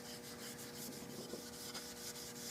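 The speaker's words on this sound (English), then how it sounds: "now I'm going over it with some, this is Scotch-Brite, it's the gray stuff instead of the red" A gray Scotch-Brite pad rubs over the metal finish of a 1906 Winchester gallery gun during restoration, giving faint, steady scrubbing strokes in a quick regular rhythm, close-up and alone.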